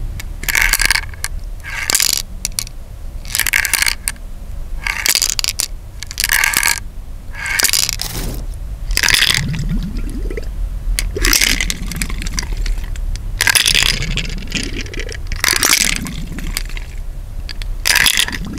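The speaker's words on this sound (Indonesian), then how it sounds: "bunyinya tuh lebih nyaring karena tutup hardener yang ada di dalam kaleng ini kebuka dan ikut" A 2K81 HS two-component clear coat spray can, its hardener cap opened inside alongside the mixing marble, is shaken in loud, rhythmic bursts of bright clattering rattles, about a dozen strokes close up with no voices.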